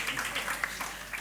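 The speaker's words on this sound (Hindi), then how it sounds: "एक बार जोरदार तालियां इंदिरा जी के लिए, और जरा जोर से उनको बैंगलोर तक सुनाई देनी चाहिए" An audience at an annual day celebration bursts into dense, continuous clapping for a performer, a brief steady wash of applause throughout.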